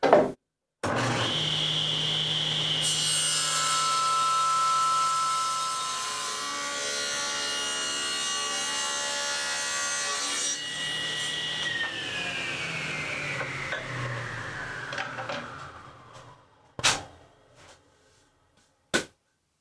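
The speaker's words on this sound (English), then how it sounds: "the first stop is to the table saw" Table saw ripping a wood board to width: the motor spins up, holds a loud steady whine as the blade cuts through the board, then winds down, followed by a few knocks of handled wood.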